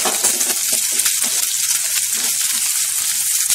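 Onions frying with garlic and grated ginger in a pan for chhole masala, a steady loud sizzle that runs the whole length with no talking.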